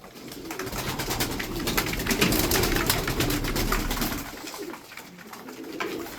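Tumbler pigeons coo and flutter nearby amid a steady rustle of wings and background noise.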